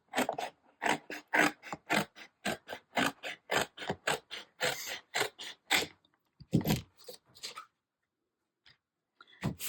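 Cardboard from a cereal box being cut by hand, a close, steady run of short crisp scraping snips in a quick rhythm, pausing briefly before a few last cuts and then near silence.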